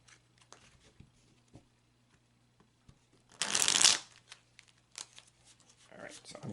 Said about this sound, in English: Usually when my cards act like they don't want to go back together, that's usually my sign that the shuffling is done